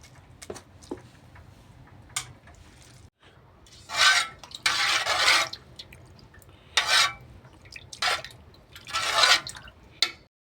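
Cooked spinach is mashed with a spoon in a pan, heard as several bursts of wet scraping and squelching separated by quiet gaps, close up with no voices.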